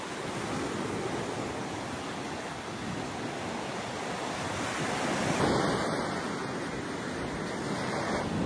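Aegean Sea waves washing onto a beach near Thessaloniki, Greece, a steady, continuous roar of surf with light wind noise throughout and no voices.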